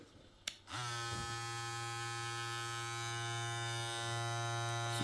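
A Kemei KM 1826 hair clipper with a brushless motor switches on after a short click and runs with a steady, loud, even buzz that holds for the rest of the stretch, with no talk over it.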